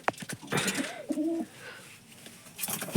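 A soft, low coo from a female pigeon in its loft rises and falls close by in a quiet space, with a few faint clicks and rustles around it.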